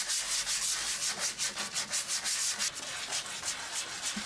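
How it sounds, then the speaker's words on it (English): A Dremel rotary tool with a soft fiber attachment scrubs a wood burl vase, a close, continuous rough rubbing hiss that pulses in quick, rhythmic strokes throughout, with no voices. "just a little clean up with my Dremel tool"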